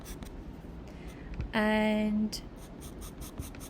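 A darker pencil working on paper in a still-life drawing: soft scratching strokes, then a brief, sharp squeaky drag lasting under a second, with a voice speaking briefly.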